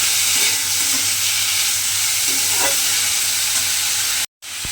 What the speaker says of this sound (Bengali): দিয়ে এবারে ঘিয়ের সঙ্গে থোড়টা দিয়ে আমি খুব ভালোভাবে একটু নেড়ে চেড়ে রান্না করে নেব